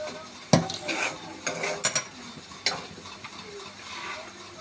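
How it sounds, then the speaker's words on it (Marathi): A spoon stirs tomatoes into a besan jhunka bhurji sticking in a kadhai, giving scattered scrapes, knocks and clinks over a soft sizzle, close and without speech. "आपण याच्यामध्ये आता टोमॅटो घालून घेणार आहोत"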